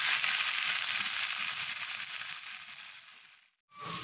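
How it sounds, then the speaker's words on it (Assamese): Potatoes frying in spiced oil for an Assamese mutton curry make a steady, close hiss that slowly fades and cuts out briefly. A short clatter of stirring follows at the end. "আলুখিনিও ভাজি থাকিম"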